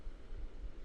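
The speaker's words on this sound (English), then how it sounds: "just in case you don't believe how windy it is, it's bloody windy" Strong wind buffets the microphone in a continuous, loud, deep rumble with gusty surges throughout.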